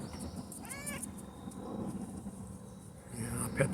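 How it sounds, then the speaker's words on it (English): An outdoor cat, one of about a dozen living on the property, gives a short meow amid steady outdoor background noise, followed later by some faint rustling and movement nearby. "This is one of the outdoor cats here."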